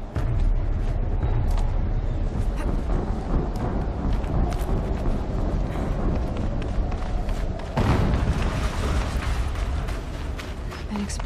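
Explosions and heavy mechanical rumbling from the video game Horizon Zero Dawn fill the stretch with dense, loud booms and creaking machinery, with a stronger blast burst near the end.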